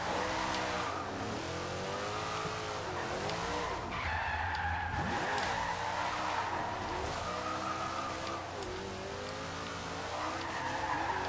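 A Dodge Dart with a soft, jelly drift setup slides through Forza Horizon 2, tires squealing in long, sweeping waves while the engine revs rise and fall, loud and continuous throughout.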